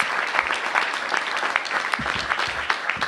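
An audience applauds at a bill signing ceremony in Washington, DC, dense continuous clapping at a steady, fairly loud level throughout.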